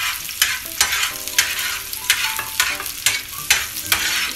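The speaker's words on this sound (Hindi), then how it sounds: "अब हम डालेंगे इसमें प्याज डाली थोड़ी सी, बस एक छोटी हमने चॉप करके रखी है।" Chopped onion sizzling in oil on a tawa while being stirred, a steady crackling fry broken by rhythmic scraping strokes roughly every half second, close and loud with no talking.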